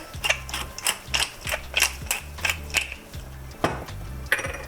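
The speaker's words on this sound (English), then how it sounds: "I'm gonna add just a little bit more fresh cracked pepper" A pepper mill grinds fresh cracked pepper over a pot in a home kitchen, a close series of rhythmic ratcheting crunches, about ten twists in quick bursts with brief pauses.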